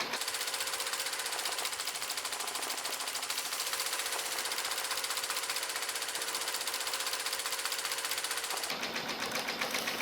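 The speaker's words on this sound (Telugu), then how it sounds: "కంటిన్యూగా అనేది స్టిచ్చింగ్ కంటిన్యూగా రన్ అవుతూనే ఉంది" Computerized embroidery machine stitching continuously, a fast, steady mechanical rattle with dense rapid clicks, loud and close, changing pitch briefly near the end.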